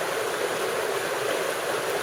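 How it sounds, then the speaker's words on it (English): A massive waterfall roars in a steady, loud broadband rush of falling water, close and continuous throughout with no pauses. "Hope you can hear me alright over this massive waterfall behind me."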